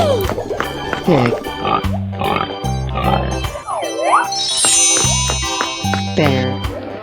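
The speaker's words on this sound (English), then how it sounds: "Great. Pig." Pig oinks and squeals in a 3D animal slide video game, several short calls mixed with upbeat game music and bell jingles, fairly loud and close.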